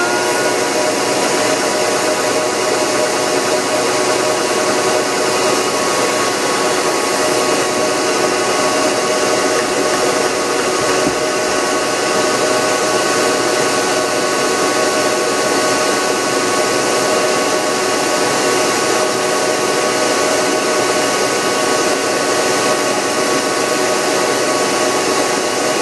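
A milkweed seed separator runs with a loud, constant whirring drone that holds steady and unbroken for nearly half a minute, with no speech.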